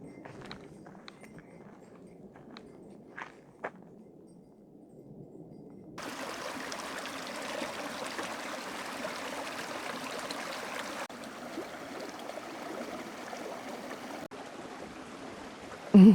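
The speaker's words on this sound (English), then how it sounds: "I'm finally starting to hear the middle fork of the Swan River." Hiking boots crunching on a steep trail give way to the steady rush of the Middle Fork of the Swan River on the Colorado Trail, a broadband flowing wash that holds loud and continuous.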